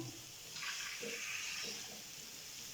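A little water is poured into a pan of achari chicken with green chillies, a short, soft splashing pour that swells and fades against a quiet kitchen background, with no talking.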